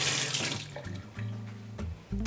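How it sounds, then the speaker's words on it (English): A persimmon seed is rinsed under a running kitchen tap, splashing water that changes pitch as the seed moves in and out of the stream, close and brief. "let me rinse this."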